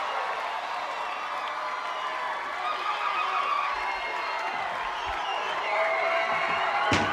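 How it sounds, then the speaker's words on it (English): A big indoor arena crowd at the American Gladiators competition cheers a contestant on, a steady, dense roar of voices and whoops that stays level and loud throughout, with no clear speech on top. "Everybody here in Gladiator Arena spurring her on, cheering her on"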